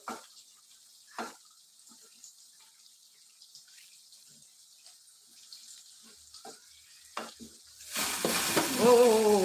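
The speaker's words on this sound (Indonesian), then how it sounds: "Di sana goreng tempe juga di sana." Tempeh frying in a pan in a home kitchen, a soft sizzle with scattered stirring clicks that swells into a louder, denser sizzle near the end, with running water nearby.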